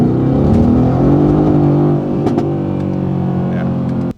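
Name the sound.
AMG twin-turbo V8 with Borla exhaust accelerating on takeoff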